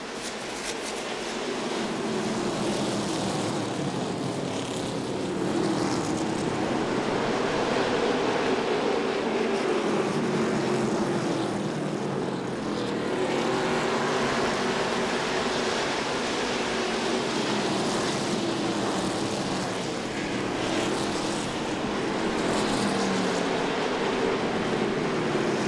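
ARCA race cars at Elko Speedway taking the green flag, a dense, continuous roar of many engines at racing speed with rising and falling drones, loud and steady with no voices.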